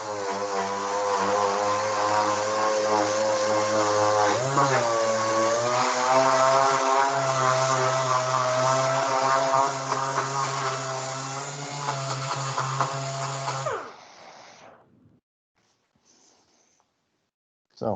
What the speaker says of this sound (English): it's air-driven, pressurized air, and as you see, it spins eccentrically